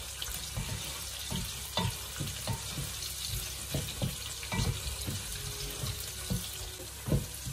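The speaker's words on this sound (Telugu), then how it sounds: "ఆనియన్స్ ఇలా దూరగా వేగాలి" Onions fry lightly in a pan for Nellore fish curry, giving a steady close sizzle broken by frequent clinks and scrapes of stirring.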